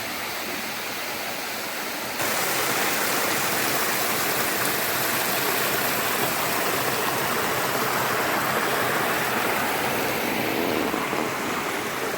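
A village river in Konkan flows steadily with a broad, constant rush of water that grows noticeably louder after the first couple of seconds and then holds even throughout, with no voices.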